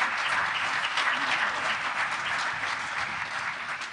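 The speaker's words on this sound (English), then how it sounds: "another round of applause for the Natolin Choir" Audience applause for the Natolin Choir after their final performance of the year at a graduation ceremony, a steady, dense clapping that holds evenly for the whole stretch and tapers slightly at the end.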